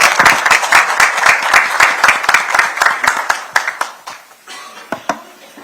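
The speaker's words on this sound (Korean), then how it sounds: "우리 최고위원들께서 박수 한번 보내주시기 바랍니다." Clapping from party officials standing at a political party meeting, loud and close with sharp individual claps, tapering to a few scattered claps near the end.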